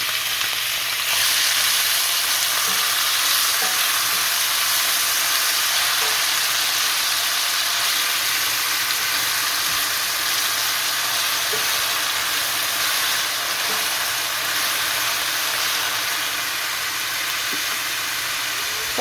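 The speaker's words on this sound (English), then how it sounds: "now this is the onion mixed with the garlic. I'm just gonna be putting in this pot right here." Onion mixed with garlic fries in oil in a pot, a loud, steady, close sizzle that holds without a break from start to finish.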